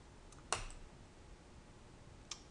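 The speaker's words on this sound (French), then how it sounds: "on utilise les touches CTRL-V du clavier" Keys on a computer keyboard are pressed for a Ctrl-V paste, making one crisp, close click followed by a fainter single click nearly two seconds later, both over quiet room hiss.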